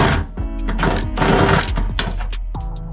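A cordless impact wrench rattles in several rapid bursts while loosening the bolts on a car trunk latch with its cable attached, close and loud, with short pauses between the hammering runs.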